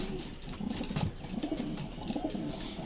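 Pigeons coo softly nearby, a continuous low, burbling murmur with faint rustles, while one is held up and displayed.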